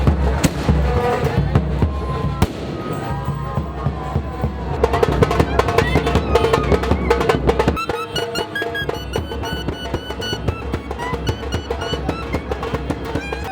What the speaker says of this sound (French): on entend les tambours et les pétards résonner